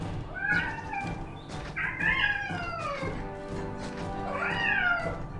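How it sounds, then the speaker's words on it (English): Unhappy cats meowing in the city-building video game Caesar 3: several wavering, drawn-out meows rise and fall over a steady game background, with no talking. "Very unhappy cat noises."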